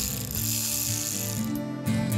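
A ratchet tightens the screws on an engine's timing cover, its pawl giving a steady, rapid clicking right at the microphone with no pause, and a slight shift in pitch near the end.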